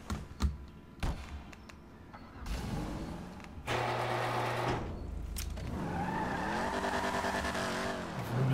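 A Dukes muscle car in GTA 5 Online is driven hard, with a rising engine roar, repeated tire squeals and skids, and a few sharp knocks, loud and close, with no talking.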